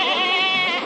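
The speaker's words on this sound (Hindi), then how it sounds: "अच्छा ये बकरी है, फीमेल है वो बकरा।" A female goat bleats loudly at close range in one sustained, wavering cry at a muddy livestock market in Balahedi, Rajasthan.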